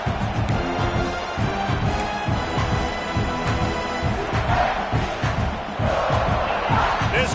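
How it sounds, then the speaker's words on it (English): A football stadium crowd at a Miami versus South Carolina game roars loudly and continuously, a dense wall of cheering and noise with no break. "This crowd trying to make life miserable for this offense."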